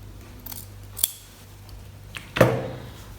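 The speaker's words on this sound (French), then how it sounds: "je vais couper à 1 cm à peu près à l'intérieur pour laisser de la marge" Scissors snip fabric bias binding for a first dress or top, a few light isolated cuts followed by one louder, crisper snap near the end, close and alone in a quiet room.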